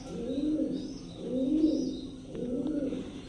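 Fieldback pigeons cooing close by in three slow, throaty, rolling calls, each swelling and fading, with faint background noise.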